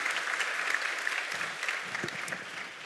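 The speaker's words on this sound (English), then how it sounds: "shouldn't we start giving them a hand of applause?" Steady applause from an audience, a dense wash of clapping at moderate level that carries on throughout without pause.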